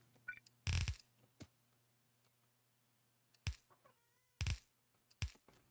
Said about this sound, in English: I guess I should go take care of my cat or she's gonna claw my face off